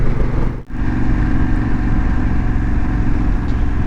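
A Honda Africa Twin motorcycle engine running steadily while riding, a loud continuous drone with one brief dip near the start, no talk.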